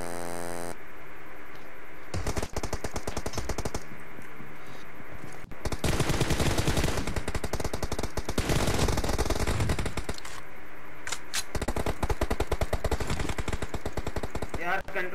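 Gunfire in a video game, with dense bursts of rapid automatic shots coming in waves over a constant electronic hum. Loud and continuous throughout, with short gaps between volleys.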